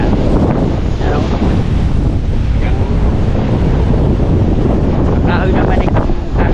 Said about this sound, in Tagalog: Talaga lang napaka lakas na hangin pa.